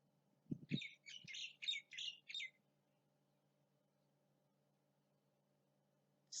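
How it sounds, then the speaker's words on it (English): A short burst of high, rapid bird chirps, a few quick notes in a row, over a faint low hum, then near silence with one more chirp at the end. "Listen to the birds."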